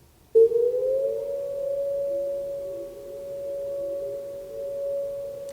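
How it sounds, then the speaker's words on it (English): A steady, loud tornado siren tone starts abruptly and holds a sustained, slightly wavering pitch, sounding alone from a distance with no talk during a weekly test. "That's a tornado siren."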